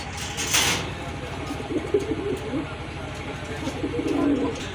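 A pair of white grizzle pigeons coos in soft, low repeated notes throughout, close by, with faint voices and background noise in the mix.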